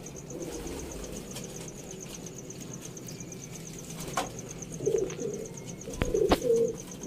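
Pigeons cooing in a kept flock, soft throaty coos building in the second half over a quiet hum, with a few sharp taps and a faint steady high tone in the background.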